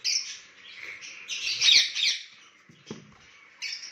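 Lovebirds chirping and squawking in a breeding aviary, a busy run of bright overlapping calls with short pauses between bursts, fairly close and moderately loud, no voices.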